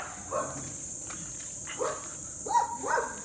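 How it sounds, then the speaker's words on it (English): Dogs playing outdoors give a few short, scattered barks and yelps at moderate distance against a steady background hiss. "My dog is visiting other dogs."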